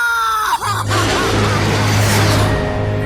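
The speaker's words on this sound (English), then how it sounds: "I vaguely hear a scream of terror that sounds much like my own voice from afar." In an Ace Combat 6: Fires of Liberation cutscene set in a burning city after a bridge collapse, a brief cry of terror rises, then gives way to a loud, sustained rumbling roar.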